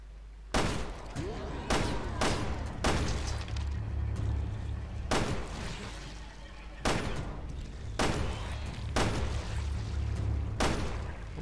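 Gunfire in the video game Resident Evil Revelations 2, a series of sharp, loud shots fired at uneven intervals over a steady low rumble of game ambience.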